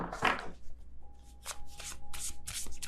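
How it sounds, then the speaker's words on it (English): Tarot cards are shuffled by hand in short, quiet bursts of papery riffling, a few separate shuffles close up with no talking. "I'm trying to be careful as I shuffle my cards because I feel like I'm treating them a little too roughly."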